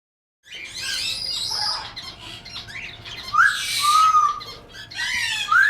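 Several parrots call from a rescue and parrot business, a run of sharp squawks, whistles and chirps in bursts over about five seconds, fairly close and loud with no talking.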